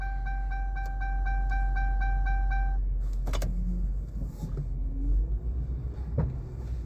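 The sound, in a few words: car making popping noise while reversing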